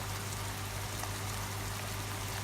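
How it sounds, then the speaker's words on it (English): Mincemeat browns in a pan as part of a nachos recipe, giving a steady, dense sizzle and crackle that holds evenly throughout at moderate loudness, with no talk. "get our mincemeat nice and browned"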